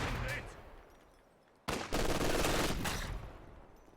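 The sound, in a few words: MG42 machine gun fire in a video game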